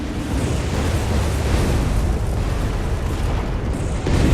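Anti-aircraft flak firing in the Codename: Panzer game, heard as a dense, continuous roar of booming gunfire and explosions that stays loud and unbroken throughout, with no talk.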